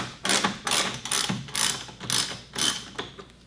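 A ratchet clicks in quick bursts loosening the upper front bumper bolts on a BMW E90, about six rapid ratcheting strokes close up with no talking.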